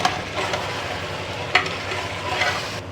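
Tomatoes being stirred into chicken korma as it fries in a pan, giving a steady close sizzle with scraping stirs and one sharper clatter midway, no voices.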